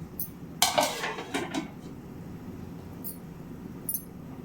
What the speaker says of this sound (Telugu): ఇప్పుడు మూత పెట్టేసుకుందాం